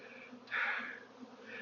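A swarm of honeybees fallen onto the ground gives off a faint, steady buzzing drone, briefly swelling louder as the bees stir, with no voices.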